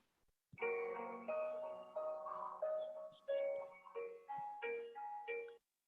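A thin, chime-like electronic melody plays alone in short stepped notes, faint and tinny like a simple karaoke backing track.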